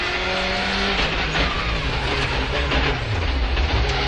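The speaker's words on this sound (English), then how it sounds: "So we're on the brake, turn into the corner and then back on the power all the way through the corner." A rally car's engine note falls as it brakes into a corner, then climbs again as the power comes back on through the bend, loud and close without any speech.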